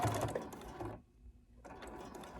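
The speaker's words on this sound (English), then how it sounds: "And then I backstitch." A sewing machine stitches batik cotton, running in a steady, close mechanical whir, pausing briefly mid-way and then resuming for a backstitch.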